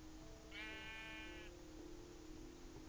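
A single sheep bleat from the Minecraft video game sounds once, lasting about a second, over a faint steady background hum with no talking.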